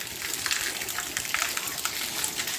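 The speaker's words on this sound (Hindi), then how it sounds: "लेकिन हल्की हल्की बारिश अभी आ रही है।" Light rain falls in a hilly Pahadi village, a soft steady patter and hiss of drops with faint splashes, close and even throughout.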